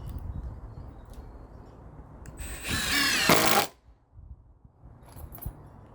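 A power drill drives a 2.5-inch deck screw into a raised garden bed board in one loud whirring burst of about a second, with quiet handling noises before and after.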